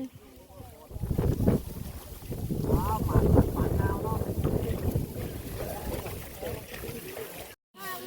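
Gusty wind buffets the microphone at a pond while people are out catching fish, the rumbling bursts rising and falling as voices talk nearby.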